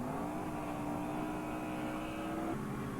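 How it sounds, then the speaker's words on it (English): A race car engine at a Rotorua, New Zealand race drones loudly and continuously, its pitch holding steady before dropping slightly near the end. "Listen to the engine of Clark Proctor."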